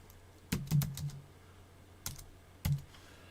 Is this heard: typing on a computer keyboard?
yes